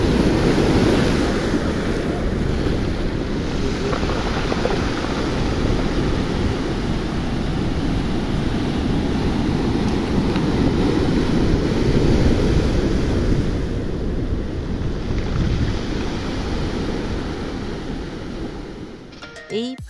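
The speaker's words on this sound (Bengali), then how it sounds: "সারাক্ষণ এমন সমুদ্রের হাওয়া" Sea breeze and waves at Priyadarshini Park in Mumbai: heavy wind buffeting the microphone over a constant roar of surf, loud and steady throughout.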